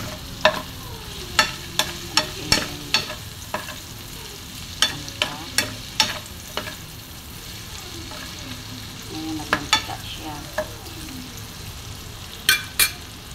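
Fresh noodles being stir-fried for mee goreng in a hot pan, a steady sizzle broken by a dozen or so sharp, irregular scrapes and clanks of the spatula, close and alone with no talk.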